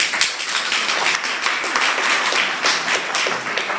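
First-time guests in a comedy club crowd at Mia Roma clap in a lively burst, individual sharp hand slaps clearly distinguishable within a steady patter of applause that continues throughout.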